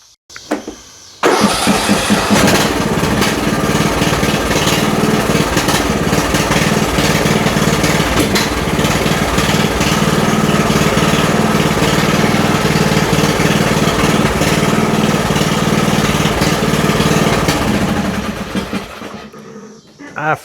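A riding lawn mower engine cranks and catches after a short quiet start, then runs at a loud, steady idle before fading and cutting out near the end.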